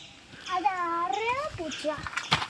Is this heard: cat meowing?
yes